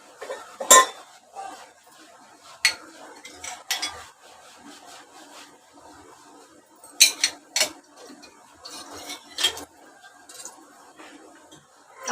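A metal cooking pot is set down and shifted on a kitchen stove, giving several sharp clanks and scraping rubs at irregular intervals against a quiet room.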